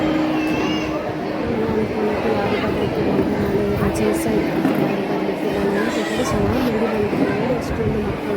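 Many children chatter together at a school games event, with parents and grandparents present: a steady, dense babble of overlapping voices that fills the whole stretch at an even level.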